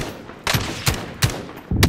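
Gunfire in Call of Duty: Warzone, a battle royale game: four sharp, punchy shots spaced roughly every half second, loud and close, with no talk over them.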